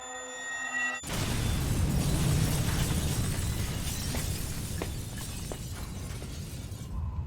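A loud game detonation in Yakuza: Like a Dragon bursts in after a second of quiet and rolls on as a long, crashing roar with debris-like crackles that slowly thins toward the end, with no voices.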